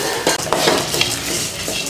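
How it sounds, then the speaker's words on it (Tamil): Cumin, fennel and grated coconut are dry-roasted in a pan for cauliflower curry, a close crackling sizzle with a spoon scraping and stirring against the metal. "எல்லாத்தையும் நல்லா வறுத்துக்கலாம்."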